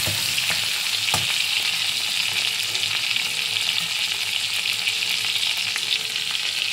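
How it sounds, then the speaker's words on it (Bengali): Tomato frying in a pan, a loud, dense, continuous sizzle heard close up, with a couple of faint stirring knocks and no voices. "টমেটোটা মোটামুটি ভাজা হয়ে গেছে"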